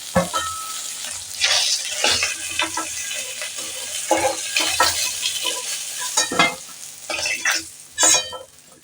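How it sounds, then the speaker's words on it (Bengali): Fish heads sizzle in hot oil as they fry red for chhyachra, with a steady crackle broken by repeated louder bursts of stirring and scraping in the pan; no one talks. "মাছের মাথাগুলো আমার লাল লাল করে ভাজা হয়ে গেছে।"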